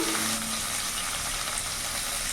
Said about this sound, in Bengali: ভালো করে নাড়াচাড়া করে ফুলকপিটা একটু ভেজে নেব